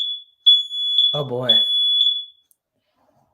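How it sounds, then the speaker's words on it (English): Smoke-detector style fire alarm beeping in a rapid series of piercing high electronic chirps, close and loud, with a brief spoken exclamation over the middle before the beeping stops. "That's a fire alarm."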